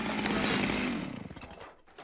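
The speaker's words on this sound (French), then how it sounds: "c'est ouvert par le bruit de la tronçonneuse!" A cartoon chainsaw runs loud and steady, its buzzing drone holding for over a second before sputtering and dying away toward the end.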